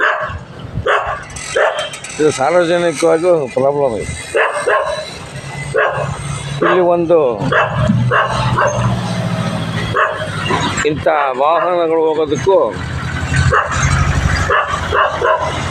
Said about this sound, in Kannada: ಬೀದಿ ನಾಯಿಗಳ ಕಾಟನೂ ಜಾಸ್ತಿ ಇದೆ